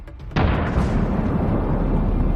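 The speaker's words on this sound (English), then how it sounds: "it delivered a strike that caused a powerful explosion" A tank explodes after an FPV kamikaze drone strike: a sudden, powerful blast bursts out, then settles into a loud, sustained rumbling roar that fills the rest of the moment.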